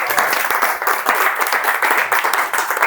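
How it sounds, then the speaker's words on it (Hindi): A live demonstration audience breaks into dense, sustained applause, many hands clapping together loudly and steadily throughout. "जोरदार तालियां हो जाएं।"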